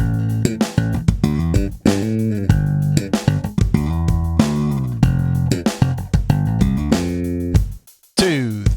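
A slap bass lick on electric bass, a fast busy run of percussive slapped and popped notes in steady rhythm, loud and close, with a brief gap near the end before it picks up again.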